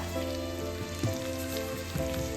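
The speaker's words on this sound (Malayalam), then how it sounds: "ഒരു ടീസ്പൂൺ ഉപ്പ്, അതും ഇട്ട് നന്നായിട്ട് അങ്ങോട്ട് വഴറ്റാം." Onions, chopped red chilli and curry leaves sautéing in a pan for a Malayalam toddy-shop style liver and egg pepper fry, a steady close sizzle with soft scraping accents repeating about once a second.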